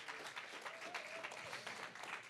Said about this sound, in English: Clap your hands if you learned anything. Come on, clap like you got energy.